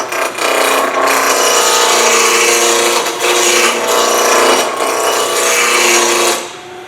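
A spindle roughing gouge cuts softer wood spinning on a lathe while shaping a beer keg tap handle. The loud, continuous rough scraping has brief dips in intensity, and no voices are heard.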